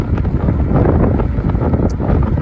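Steady, loud wind buffeting a microphone while an Ecotric e-bike rides uphill into a headwind, a continuous low roar with gusty fluctuations and no voices throughout.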